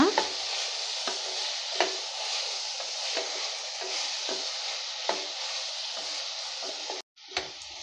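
Aloo rice in a pressure cooker is mixed with coriander and mint, producing a steady hiss with regular soft knocks of the spoon roughly every second, close by, ending with a brief pause.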